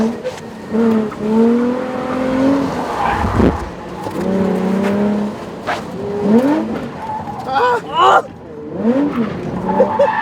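A Nissan Z drifting, tires squealing in long wavering howls over a revving engine, with a voice shouting briefly between the squeals.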